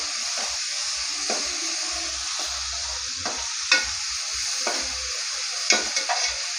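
Onions sautéing with a little salt in a pan for a banana-flower cutlet, giving a steady close sizzle with intermittent spatula scrapes and stirring clicks, no voices.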